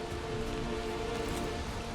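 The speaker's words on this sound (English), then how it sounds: "rain in this game is really cool" Rain falls in the Valheim game world, a quiet, steady hiss of drops with a faint low hum beneath it.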